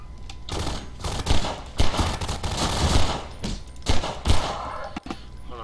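Rapid pistol fire from Half-Life 2, sharp cracks in quick irregular bursts, loud and close with no talk.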